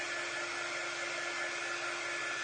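A hair dryer blows steadily and evenly on a chalk craft project, a constant close whooshing hum with no other sound.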